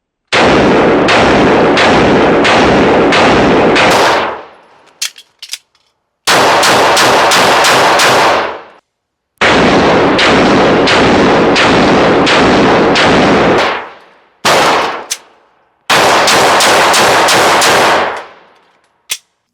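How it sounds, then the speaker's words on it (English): Walther PDP and Canik 9mm pistols fired in rapid strings, very loud sharp shots in dense bursts of several rounds each, separated by short silences. "Check out this footage real quick of both pistols being shot."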